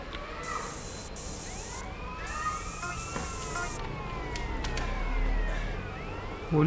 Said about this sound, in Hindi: पुलिस की गाड़ी कहाँ से आ गई?